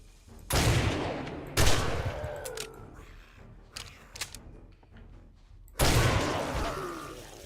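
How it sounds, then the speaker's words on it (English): Shotgun blasts in the modded video game 7 Days to Die: three loud booming shots, each followed by a ringing decay, with softer clicks and thuds between them and no talking. "Do love the shotgun."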